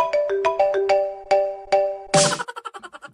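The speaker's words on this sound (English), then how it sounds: "Telephone, like the sound." A melodic electronic ringtone plays a quick sequence of chiming notes, ending in a burst of noise and a fading, echoing tail, with no voices over it.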